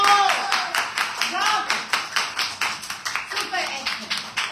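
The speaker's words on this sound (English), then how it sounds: "Clap your hands for all of you." A class of primary-four children claps their hands together in a steady, lively patter of many overlapping claps, close and fairly loud, with a teacher's voice speaking over it.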